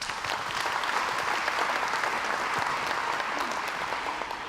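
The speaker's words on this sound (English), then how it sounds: "So nice round of applause for John." An audience at a schools breakfast event gives a round of applause, a steady, even patter of many hands clapping at moderate volume, sustained from start to finish with no voices over it.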